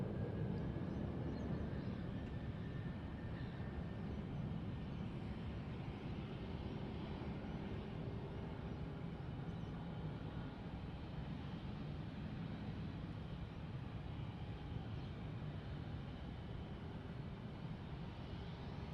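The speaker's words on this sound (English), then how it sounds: "Another Dashi in the background." A Dash 8 turboprop airliner hums steadily in the background at Sydney Airport, a continuous distant drone with broadband rumble that holds at an even level throughout, with no voices.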